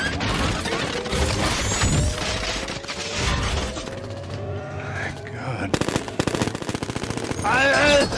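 Heavy gunfire from the Blackout scene of the 2007 Transformers movie: long automatic bursts and machine-gun rattles mixed with crashes and mechanical clanks, dense and loud throughout, with shouting voices in the mix.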